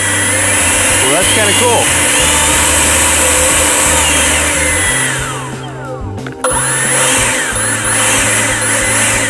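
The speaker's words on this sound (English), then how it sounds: "The trigger is what controls how fast you're blowing." An EGO battery-powered leaf blower runs with a steady high whirring roar that dips briefly and then resumes, while someone speaks close by.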